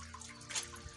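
Untreated borehole water splashes and trickles at a fish hatchery, a brief close pouring sound that swells in the middle, with no one talking.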